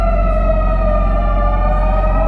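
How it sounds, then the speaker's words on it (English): Emergency vehicle siren during a lights and siren test, a loud, steady wailing tone held continuously over a deep engine rumble, close by with no talking. "light and siren test."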